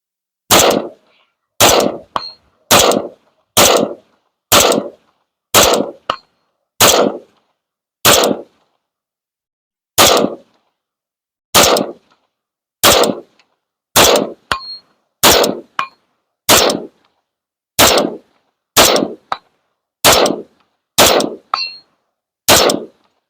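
A Daniel Defense Mk12 rifle fitted with an Armaspec SMG muzzle device fires a full magazine as about twenty loud, sharp single shots at a steady deliberate pace, one short pause near the middle, ringing clangs after some reports.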